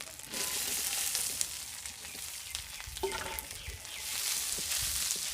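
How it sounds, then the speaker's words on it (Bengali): Potatoes dropped into a ginger spice paste frying in a pan give a steady, close sizzle with scattered crackles and a brief stir, no voices over it. "মশলাটা ভাজা ভাজা হয়ে গেছে ভালো একটা সেন বেরিয়েছে আদার যে একটা গন্ধ থাকে সেই গন্ধটাও চলে গেছে এখন আলুটা দিয়ে দিচ্ছি"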